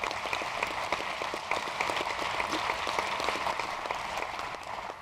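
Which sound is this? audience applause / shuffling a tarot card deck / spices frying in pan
audience applause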